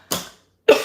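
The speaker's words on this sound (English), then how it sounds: "Like a little flutter going on and it makes me cough all the time" Two short, sharp coughs close to the listener, separated by a brief pause.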